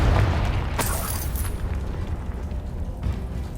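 The Confringo blasting spell explodes in Hogwarts Legacy with a heavy low boom at the start and a bright burst of crackle, then a rumbling decay that lingers for a few seconds, with no talking.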